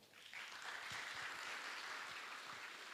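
Audience at a University of Nairobi talk breaks into sustained applause, a dense steady wash of clapping that rises after a brief lull and holds loud and even to the end, with no talking.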